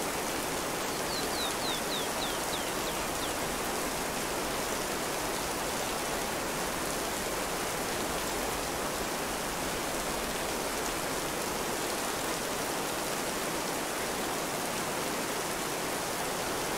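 Steady, dense rain hisses evenly in the open-world survival game This Land Is My Land, a constant wash of sound with a few faint bird chirps near the start and no talking.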